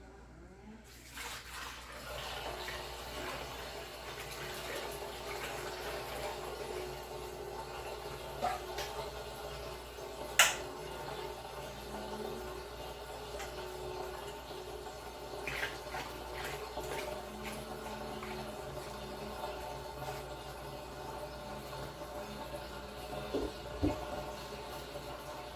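Watermelon juice poured into a container for moonshine: a faint, continuous liquid trickling and splashing at close range for over twenty seconds, with occasional knocks and clatters.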